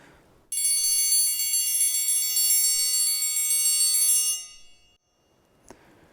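A bright metallic triangle roll rings out steadily for about four seconds, then fades to silence, followed by a faint tap.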